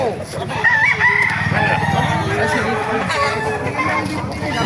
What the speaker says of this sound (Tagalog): Napakita ko sa inyo yung mga manok dito sa Bulacan.